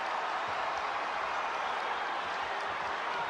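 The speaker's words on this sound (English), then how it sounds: "you can hear the Chicago contingent applauding the efforts of the Bulls" A crowd of Chicago fans applauding at an NBA basketball game, Bulls against Pacers in 1995, heard as a steady wash of distant clapping and arena noise that fills the whole clip without pause.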